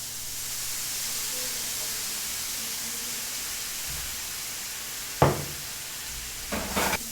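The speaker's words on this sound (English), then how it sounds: "saute it for a bit till everything gets translucent" Vegetables sautéing in a pan give a steady, soft sizzle. Near the end come a couple of sharp clatters of stirring or utensil contact.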